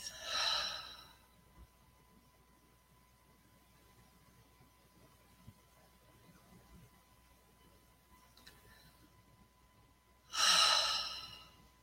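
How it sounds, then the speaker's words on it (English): A single person breathes slowly and softly during a guided grounding meditation, with one long breath at the start and another near the end. The stretch between is faint and quiet. "And now breathe."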